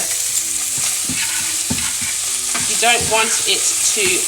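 Salmon pieces are stirred and scraped around a hot pan over high heat, a continuous close sizzle with repeated utensil scrapes and taps, no talking.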